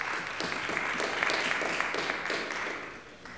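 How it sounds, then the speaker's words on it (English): A church congregation clapping during a worship service, moderately loud and steady, with individual claps audible in the mix before it slowly tapers off. "let's give Roger an applause"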